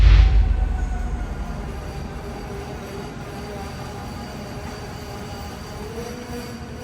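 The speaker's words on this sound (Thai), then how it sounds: "ผมเดินทางด้วยรถไฟฟ้าสายสีน้ำเงินจากถนน 7 เพื่อมุ่งหน้าสู่เมืองลองบีช" A Blue Line electric train toward Long Beach rumbles steadily along the rails with a low, continuous roar and faint high squeals, louder at first and then settling into an even drone.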